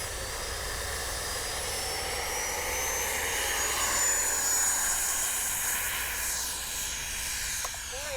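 A 70mm ducted-fan RC model of a Czech JAS-39 jet flies on its maiden flight, giving a steady, loud, whining rush of fan noise with broadband hiss that swells and fades slightly as it passes, with no talking.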